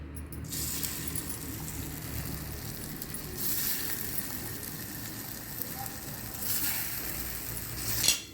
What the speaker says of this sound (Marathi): आपण सगळीकडे तेल पसरवून घेऊ आणि ह्या वड्या फ्राय करून घेऊ.